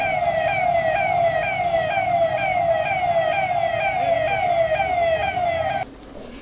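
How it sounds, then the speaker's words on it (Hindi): A civic siren wails steadily and loudly in a town square in Balaghat for two minutes as part of a mask awareness drive, its rising-falling tone sweeping repeatedly before cutting off near the end, leaving a quieter background hum. "हर जगह 2 मिनट का सायरन बजाकर लोगों को मास्क पहनने के लिए जागरूक किया गया।"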